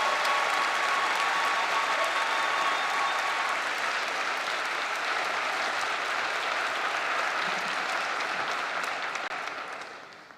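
A commencement audience applauds doctoral candidates at a December university ceremony, steady dense clapping filling a large hall for about ten seconds before tapering off at the end.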